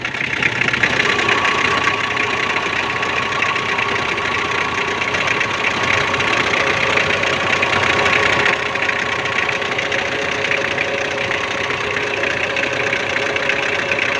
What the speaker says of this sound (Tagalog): Maingay talaga yung pump.